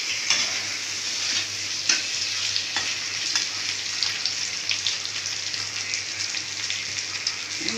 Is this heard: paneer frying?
yes